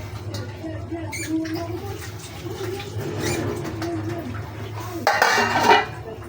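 A metal lid goes onto a cooking pot of simmering chicken feet, giving a brief clattering clank near the end over a low steady hum and faint cooing birds in the background.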